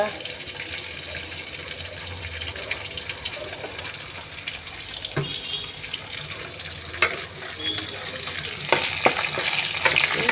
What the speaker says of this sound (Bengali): মুসুরির ডাল একটু ভেজে নিচ্ছি